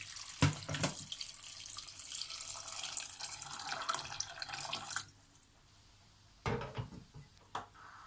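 Tap water runs and splashes into a cooking pot for several seconds, then stops, followed by a few short clunks and splashes as the pot is handled, with no talking.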